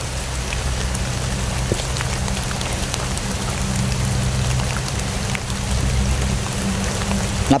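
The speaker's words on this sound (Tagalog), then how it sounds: "Ulan na nga eh." Steady rain falls outdoors, a constant close hiss of drops on surfaces with a low rumble beneath, continuing without pause and with no clear talk.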